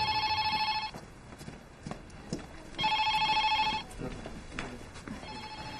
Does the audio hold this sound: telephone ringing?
yes